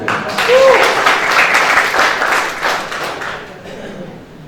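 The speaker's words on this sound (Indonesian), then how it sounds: "Mantap, tepuk tangan dong." A church congregation at a Sunday GBI service claps for the singers, a loud burst of applause that swells early and gradually thins and fades toward the end.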